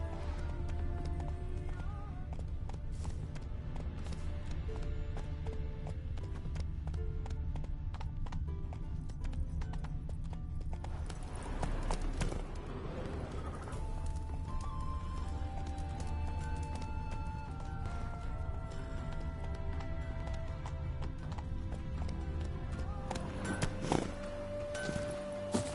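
Hooves of Roach, the horse in the video game The Witcher 3, clopping steadily over open ground at a quiet, even pace, with rustling around them and no talk.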